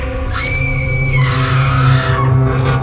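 A woman screams in a haunted-mansion cartoon story, a sustained, wavering high cry lasting about a second over a steady low musical drone, followed by dense, noisy sound.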